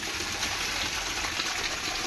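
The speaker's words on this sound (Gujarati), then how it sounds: "ધોધમાર વરસી રહ્યો છે વરસાદ આપણા પોરબંદરમાં।" Heavy summer rain pours down steadily in a residential neighbourhood of Porbandar, a dense, continuous hiss of falling water with no pauses and no voices.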